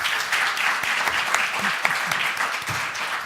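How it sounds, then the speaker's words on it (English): A crowd applauds steadily, a dense wash of clapping from many hands throughout, with no break. "let's give them a round of applause."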